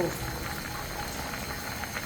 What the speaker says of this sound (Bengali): আমার তরকারি ঝোলের পানি বলক চলে এসেছে